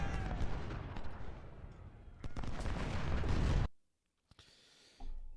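Gunfire in the Civil War strategy game Ultimate General, a dense stream of rifle shots and booms that cuts off abruptly into near silence before a brief resumption.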